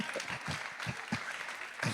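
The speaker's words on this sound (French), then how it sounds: "Vous pouvez l'applaudir." An audience at a women's event applauds steadily, a dense patter of many hands from a moderate distance, with faint voices mixed in.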